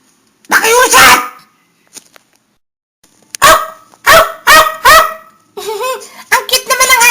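A cartoon dog barks in a quick series of loud, close yaps, some in rapid clusters, after a brief burst of something else at the start, with silent gaps between.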